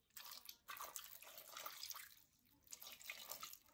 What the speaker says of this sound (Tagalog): At, lagyan natin siya ng tubig.